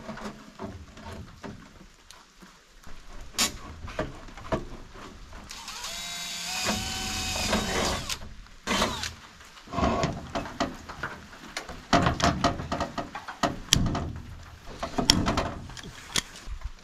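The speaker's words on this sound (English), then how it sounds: "Tape measure." Tape measure being pulled out and retracted during an off-grid rain catchment gutter build, a whirring metal blade slide followed by clicks and a sharp snap as it reels back, close and fairly quiet among handling noise.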